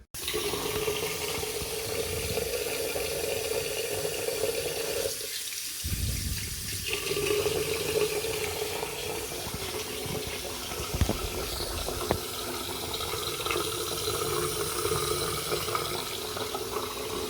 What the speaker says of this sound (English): I'm gonna run the water and test it and see how it's draining.